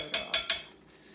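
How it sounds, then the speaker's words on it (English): A metal spoon clinks against a container while stirring a copper colloid solution, three quick bright taps in a row followed by a fainter fourth, close and isolated. "Stir it up."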